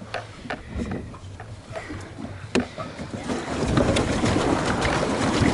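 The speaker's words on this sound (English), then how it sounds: "That's why we pedal back against the wind." Paddle boat pedaled across the sea off Jamaica against the wind, with water sloshing and churning alongside and wind buffeting the microphone, growing louder and rougher toward the end.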